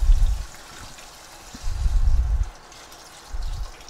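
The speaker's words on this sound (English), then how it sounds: "So I am going to go ahead now and add my water and let this cook." Water is added to a pan of fish egg curry cooking in masala, giving low sloshing bursts of liquid in three separate pours with quiet gaps between them, close by and with no talk.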